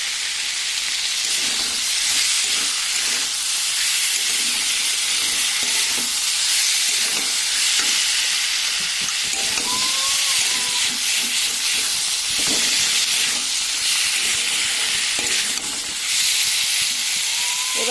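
Cauliflower and potatoes stir-fry with spices in oil in a pan, giving a loud, continuous hiss and sizzle with repeated spatula scrapes and stirring knocks, heard close up for the whole stretch.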